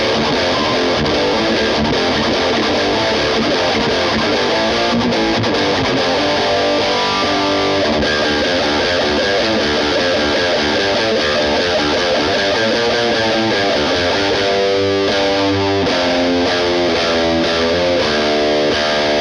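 Electric guitar played through a modded modern Marshall amp on the OD2 channel in red mode gives a continuous, loud, heavily distorted riff, chugging and sustained, with no talking.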